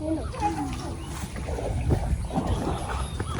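A small wooden boat on water in a Bangladeshi village, low sloshing and dull knocks of the hull under faint, distant voices.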